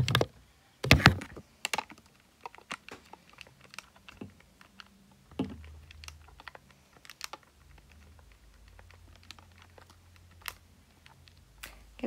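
Fingers tapping number keys on a calculator, a series of irregular light clicks and taps, some in quick bursts and some spaced apart, close and alone with no speech.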